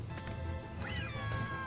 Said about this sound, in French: Y a que moi qui trouve qu'ils font miaou, les vautours, là.